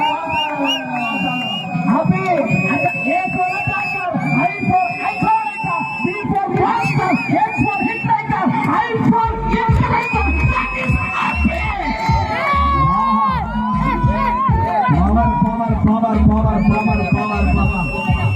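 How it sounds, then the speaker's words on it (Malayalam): Dense crowd cheering, shouting and whooping at a kabaddi match in Kasaragod, loud and continuous throughout with children's yells and some clapping mixed into the roar. "നല്ലൊരു കൈയടി കൊടുക്കാം."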